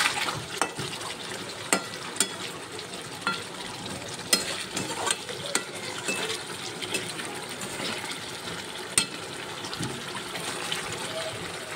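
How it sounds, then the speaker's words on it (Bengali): Chicken kosha is stirred and fried in a pan, a steady sizzle broken by repeated scraping clinks of the spoon against the pan, with faint voices in the background. "এই দেখো রবিবারে দুপুরবেলা বানাচ্ছি চিকেন কষা।"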